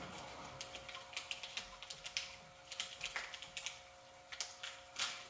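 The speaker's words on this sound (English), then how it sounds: "So I like to take thinning shears." Thinning shears snip through a Doberman's fluffy fur during grooming. A quiet, irregular series of crisp little clicks comes close up, with no talk.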